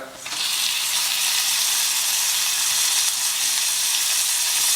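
Browned onions and tomatoes fry in a hot pan for chicken bhuna, giving a loud, steady sizzle that starts abruptly and holds evenly throughout, with no one speaking.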